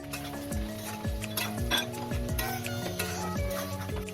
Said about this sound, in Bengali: পেঁয়াজ হালকা ভাজা হয়ে আসলে দিয়ে দেব কেটে রাখা আলু।